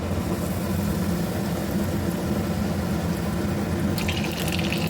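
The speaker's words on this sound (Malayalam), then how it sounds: "രണ്ടെണ്ണം വീതം ഇട്ട് കൊടുത്തിട്ടാണ് ഫ്രൈ ചെയ്തെടുക്കുന്നുള്ളത്." Chicken rolls deep fry in hot oil, a dense, continuous bubbling hiss close and steady throughout, with a few sharper crackles near the end.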